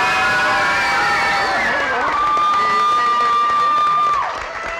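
Crowd cheering and whooping for a graduate at an adult education graduation ceremony, loud shouts and sustained cheers with some clapping, fading slightly at the end.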